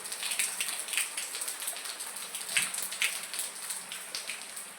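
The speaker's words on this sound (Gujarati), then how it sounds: "જો તમે જોઈ શકો છો વરસાદ પડે છે" Rain pours continuously over a wet outdoor market area, a broad constant hiss dotted with close, crisp drop impacts at moderate loudness.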